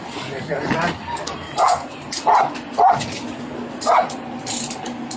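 Dog barking near a hot car during a Florida sheriff's traffic stop, four or five sharp barks and yips spread across the clip, moderately close, mixed with people talking.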